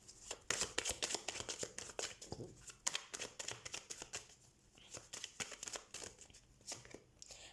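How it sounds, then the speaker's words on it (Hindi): Tarot cards being shuffled by hand before a weekly reading, giving a steady run of crisp papery riffles and crinkling snaps, close and fairly loud, with no talking. "तो सबसे पहले हम कार्ड शफल कर लेते हैं।"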